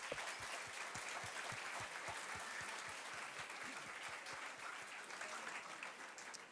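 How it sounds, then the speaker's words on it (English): Steady applause from a crowd, dense clapping that holds at an even level throughout without pause. "Everyone, round of applause."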